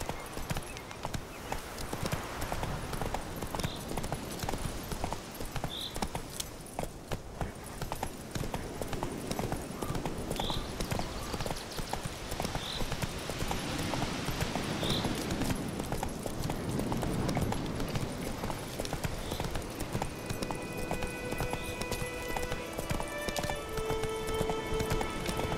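Roach, the horse in The Witcher 3, gallops for a long stretch, its hoofbeats drumming in a fast, unbroken rhythm with faint game ambience and a few soft tones layered beneath.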